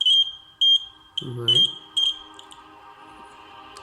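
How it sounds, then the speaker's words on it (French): An electronic buzzer on a sensor circuit beeps in short, high, evenly spaced pulses that trail off, while someone briefly speaks in French partway through. "Donc si je laisse continuer, vous voyez comment ça bip. Voilà, ça c'est un buzzer."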